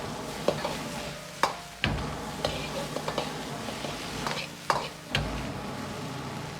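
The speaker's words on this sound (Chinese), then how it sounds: "接着再倒入小米辣，炒出辣味。" Cauliflower, pork and chili being stir-fried in a wok: a steady oil sizzle with repeated sharp scrapes and clanks of the spatula against the metal, close and fairly loud, with no talk.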